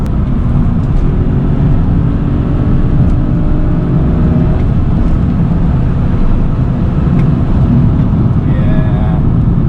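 Stage 1 tuned BMW 335i engine and exhaust heard from inside while driving, a steady, subdued low drone throughout with no talk over it.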